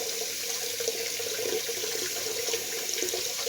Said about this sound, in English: I should have had more water in the sink when I got started